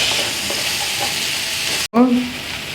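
Chopped onions sizzle and fry in a pan for Tamil Nadu-style sambar, a steady close crackle broken by a brief scrape as they are stirred once.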